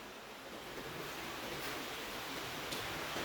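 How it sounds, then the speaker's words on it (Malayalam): A constant roar of wind and heavy rain, broad and rushing with no pauses, heard outdoors at moderate level. "നല്ല കാറ്റും മഴയാണ്"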